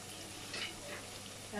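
Onions fry in oil for goat trotter paya, a faint, soft sizzle lasting under two seconds, with a voice rising briefly at the end.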